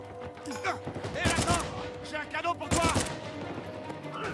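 Gunfire in the video game Uncharted 4: repeated bursts of shots, loud and close, with two heavy volleys standing out, over game music and effects.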